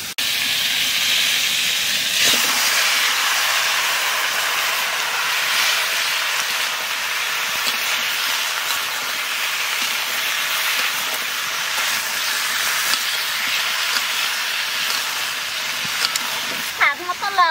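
Pumpkin pieces go into a hot pan of chickpeas and potatoes, a continuous broad hiss and sizzle that stays steady for a long stretch, fairly loud and close.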